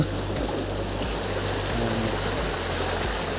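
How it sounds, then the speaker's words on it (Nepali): A mountain stream flows steadily along a trekking trail near a village, with a continuous close gurgle and rush of water and no voices. "यस्तो कलकल पानी बगेको छ"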